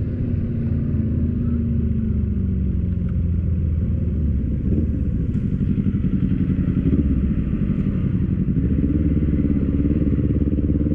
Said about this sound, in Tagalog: May motor sa likod natin.